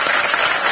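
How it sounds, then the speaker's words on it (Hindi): An audience at a comedy awards show breaks into loud applause, a short, dense, steady roar of clapping heard alone. "मैं चाहूंगा कि आप खुद अपने लिए जोरदार ताली बजाएं"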